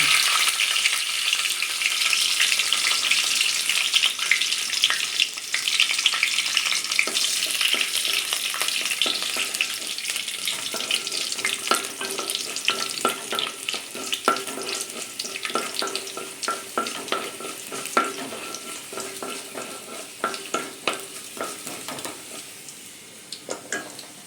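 Garlic frying in a pan for a village-style anchovy curry, a steady close sizzle with scraping stirring strokes that grow more frequent and clattery over time, with no voices.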